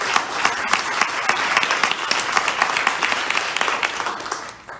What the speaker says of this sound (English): So I'd like to give a round of applause to all of you.